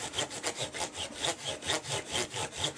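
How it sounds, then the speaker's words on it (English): Rhythmic back-and-forth rasping of sandpaper on a wooden mandolin fretboard, about three strokes per second, close and steady with no talking. "the only thing I'm doing is sanding off the tiniest amounts"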